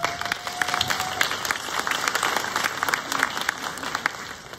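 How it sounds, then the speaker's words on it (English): Audience applause at an event on internships and apprenticeships, steady clapping from a crowd that holds continuously without talk. "Give a round of applause for Ann."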